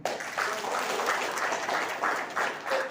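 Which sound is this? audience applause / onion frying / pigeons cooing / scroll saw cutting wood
audience applause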